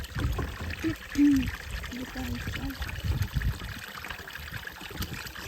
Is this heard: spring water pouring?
yes